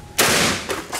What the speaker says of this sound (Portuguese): pra dar esse último disparo com o calibre 12